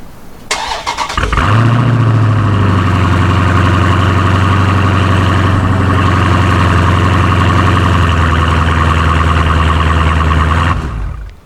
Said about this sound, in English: let me give you a cold start before